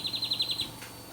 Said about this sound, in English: It's beautiful, makes a lovely chirping noise.